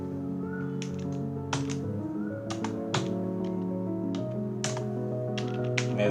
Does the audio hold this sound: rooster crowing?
no